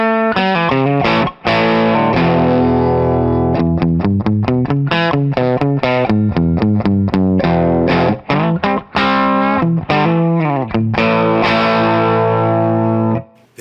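A Firebird-style electric guitar played through both single-coil pickups together, picking a rapid run of plucked notes with chords ringing out under distortion and chorus effects, steady and loud with no talking.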